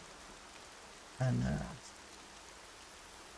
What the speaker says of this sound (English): Bloody love the rain. It's my favourite kind of weather.